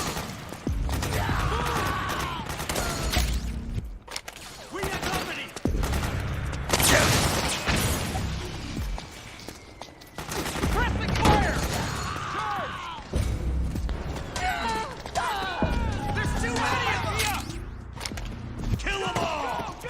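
Gunfire from Metal Gear Solid 4: Guns of the Patriots fills the scene in repeated loud bursts and sharp impacts, mixed with thuds, clanks and shouted voices over a busy battle backdrop.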